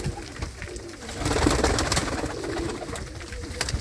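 Pigeons coo softly nearby, low murmuring calls rising in the middle, over a rustling background with occasional faint clicks.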